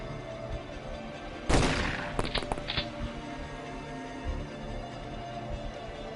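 Enemy shotgun fire in the XCom video game: one sharp, loud blast followed by a few quicker, smaller cracks, then a quieter pop later over low background noise.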